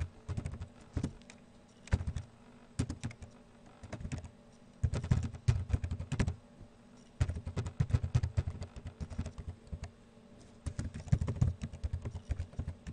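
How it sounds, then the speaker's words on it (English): Commands typed on a computer keyboard in quick bursts of close, crisp key clicks and clatter, with short pauses between runs and no talking. "now you're going to type in this"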